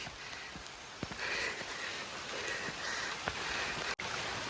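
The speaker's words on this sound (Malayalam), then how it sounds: "മഴ പെയ്യുണ്ട്" Steady rain falls in Munnar's hills, a dense even hiss with scattered sharper drop taps throughout, fairly close and continuous, with no one speaking.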